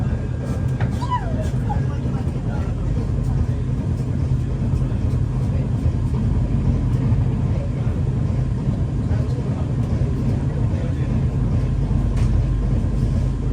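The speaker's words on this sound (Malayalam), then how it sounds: "Trivandrum super fast express." The Trivandrum Superfast Express passes near Bhatkal railway station at good speed with a loud, steady low rumble, while a person speaks over it.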